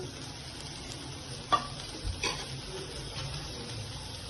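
Chopped tomatoes with a little salt sauté in a pan for vada curry, giving a soft, steady sizzle with a few faint spoon taps and scrapes near the middle.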